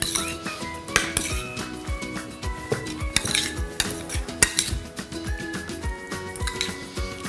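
Utensils clink and scrape against a bowl as avocado is mixed with lemon juice, a steady run of sharp metallic taps and stirring scrapes, close and fairly loud, with no voices.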